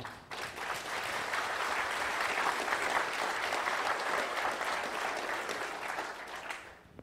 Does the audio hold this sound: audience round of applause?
yes